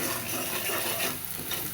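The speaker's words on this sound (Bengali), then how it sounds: "মশলাটা কষায় নিব।" Ground coriander and cumin spice masala sautéing in a pan for a tilapia fish curry, a steady soft sizzle with faint stirring scrapes, close and without talk.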